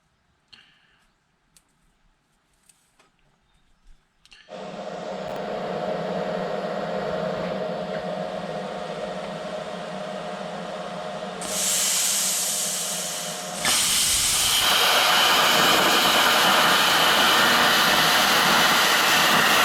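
A new plasma cutter runs on metal with a steady loud hiss that starts abruptly after a few quiet clicks, then grows louder and harsher in stages, continuous and close.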